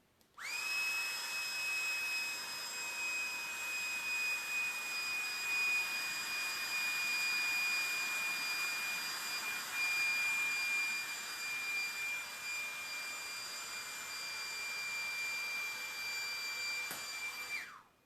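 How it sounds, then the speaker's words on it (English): A small electric blower runs steadily for about eighteen seconds to keep a ping pong ball floating in its airstream, giving a constant whooshing rush with a thin high whistling tone, switching on abruptly and cutting off at the end. "what I'm going to do is turn on this blower."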